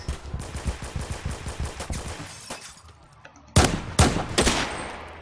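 A suppressed gun in Roblox Phantom Forces fires in quick successive shots, each a sharp muted crack, a dense run early on, a brief lull, then a few louder close reports near the end.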